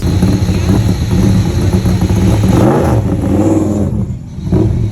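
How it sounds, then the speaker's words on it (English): Old race car engines, including a rally Supra, roar and rev loudly up close, a raw, rumbling side-exit exhaust note that surges and dips without a break. "I'll throw a clip up of how loud these cars are."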